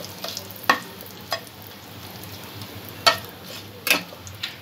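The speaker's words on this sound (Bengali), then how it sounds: "ফোড়নটা হালকা করে একটু ভেজে নেব।" Spices and asafoetida sizzle lightly in hot oil in a pan as a vegetarian tempering for a jackfruit curry. A steady soft frying hiss runs throughout, broken by a few sharp spoon taps against the pan, with no voices.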